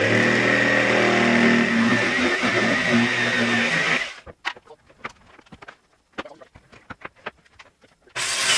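Power saw cutting plywood for a boat transom on a Carlson CVX-18, a loud steady buzzing cut that stops abruptly, followed by scattered knocks, handling clatter and brief talk, then the saw resumes.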